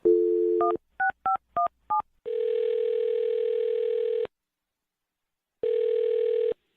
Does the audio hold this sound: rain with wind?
no